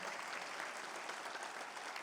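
Congregation applause at a Sunday church service, a continuous, even roar of many hands clapping, heard at a distance and fairly soft, with no break throughout.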